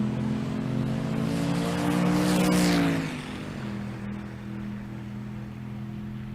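A Chevrolet S10 drag racing car in the tailgate class roars loudly, its engine tone rising to a peak before dropping away into a steadier, lower drone, no voices over it.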